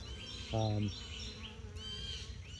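A steady, close insect hum of many VSH honey bees in an open hive drones throughout, with a brief louder tonal burst near the start.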